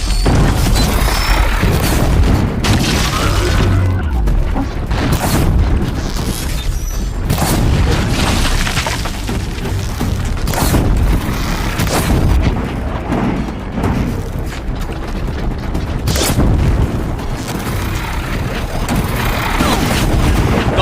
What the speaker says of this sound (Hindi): करप्शन फेंकते हैं और ग्रेनेड भी फेंकते हैं।